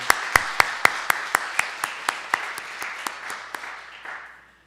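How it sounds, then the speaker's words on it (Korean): A church congregation claps in thanks during a Sunday Lenten service, about a dozen distinct claps in an even rhythm over a soft wash of scattered applause that fades away after about four seconds. "우리 감사의 박수를 우리 해드리면 옳고 맞겠습니다"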